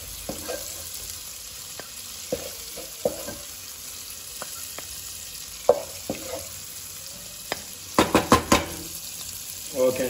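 Prawns frying in hot oil for fried rice give a continuous soft sizzle, broken by scattered sharp clicks of a utensil stirring in the pan and a burst of louder scraping near the end.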